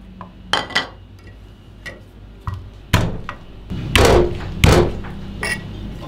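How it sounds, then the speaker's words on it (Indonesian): Garlic cloves are crushed flat on a cutting board with sharp, irregular knocks and thuds that grow louder toward the end, for making garlic oil with chicken skin. "Untuk bawang putihnya digeprek aja."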